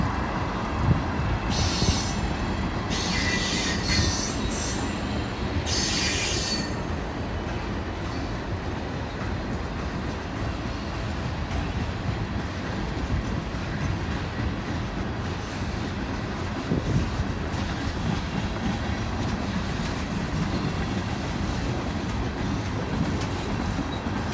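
A long freight train rolls past close by, rumbling steadily on the rails with clattering wheels and occasional high metallic squeals.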